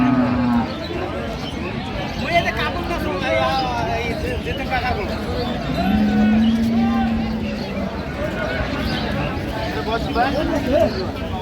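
Dairy cows and calves lowing at a busy cattle market in Dinajpur, Bangladesh, with several long moos rising over steady crowd chatter and people talking nearby.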